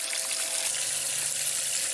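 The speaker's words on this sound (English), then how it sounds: "That is spewing water up and wrecking the flow." Water spews and rushes over a Dreammat micro sluice mat while processing Lake Superior black sand, a steady, loud splashing wash heard close up and alone.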